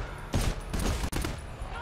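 Gunfire from the co-op shooter game GTFO, several loud bursts of shots in quick succession with a sharp crack near the end, players' voices mixed in underneath.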